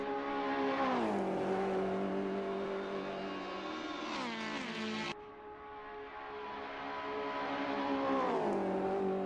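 Race cars in a touring-car game accelerate hard up the Conrod Straight at Bathurst, loud close engines whining and climbing through gears, with shifts and a second car's engine tone overlapping throughout.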